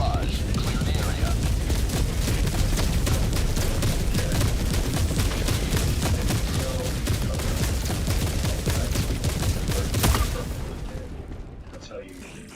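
An orbital barrage in the video game Helldivers 2 rains down as a rapid, sustained string of loud booms and blasts, pounding steadily before a final big hit and a fading rumble, with voices mixed in.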